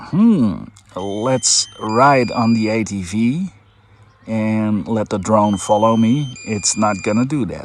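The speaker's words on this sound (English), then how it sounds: "The little beeping noise you hear in the background is the remote controller" A DJI Mini 2 SE drone's remote controller gives short, high, faint beeps as a low-battery warning, repeating in the background under someone talking.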